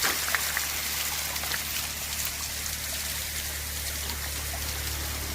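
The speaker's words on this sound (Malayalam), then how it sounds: "വെള്ളച്ചാട്ടം വെള്ളച്ചാട്ടം" A waterfall spills down a hillside at Mylaadumpara in Kannur, heard as a steady broadband rush of flowing water at moderate distance with no talking.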